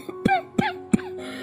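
Three sharp, harsh coughs in quick succession from a man in an animated cartoon, close and clear, followed by a faint tonal background.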